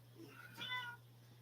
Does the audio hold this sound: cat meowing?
yes